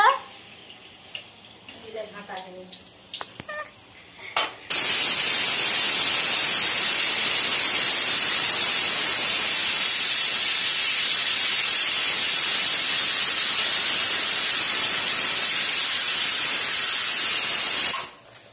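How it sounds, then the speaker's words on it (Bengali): Eggplant fritters (beguni) deep-frying in hot oil make a loud, steady hiss that starts abruptly and runs unbroken for most of the stretch, after a brief quieter opening with faint voice. "বেগুনিটা ভাজা হয়ে গেছে, তুলে নিচ্ছি।"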